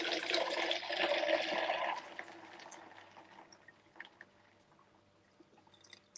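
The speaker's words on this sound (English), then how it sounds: "we're going to put in our water" Water poured into a cup of walnuts, a bright splashing rush for about two seconds, then fading into faint drips and small liquid sounds in a quiet room.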